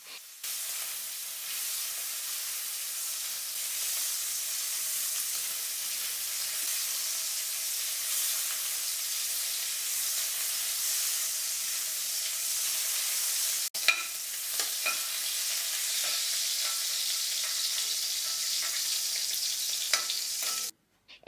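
Steady, close sizzling and crackling of shrimp frying in hot oil in a pan, continuous throughout with a brief pop partway through and no voices.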